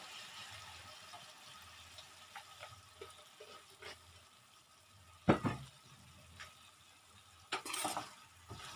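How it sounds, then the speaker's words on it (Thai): Long beans and pork neck are stir-fried over high heat with a little added water, producing a low hiss under light scraping, then two sharp metallic clanks of the spatula against the pan later on. "เราก็จะเปิดไฟแรงเลยนะคะ ผัดให้ถั่วเขาสุกนะคะ"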